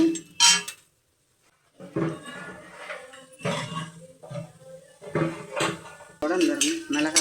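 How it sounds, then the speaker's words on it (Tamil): Chana dal goes into a pan and is stirred, a few sharp metallic clinks and scrapes of a spoon against the pan, spaced between someone talking. "அடுத்து இந்த கடலை பருப்பு போட்டுக்கிறோம்"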